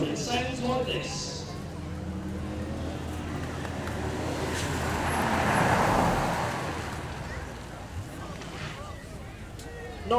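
A 1970s Chevrolet Corvette anniversary edition with a V8 of about 220 horsepower runs outdoors at a car show, its engine a low steady rumble that swells slightly midway amid crowd noise.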